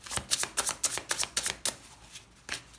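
A deck of tarot cards is shuffled in quick riffling bursts, about nine close crisp flutters in rapid succession, a short pause, then one more shuffle.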